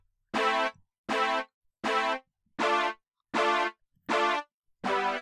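Synthesized brass patch from Reason software playing seven short, evenly spaced chord stabs with silence between, dry and fairly quiet, each blast cutting off cleanly without reverb.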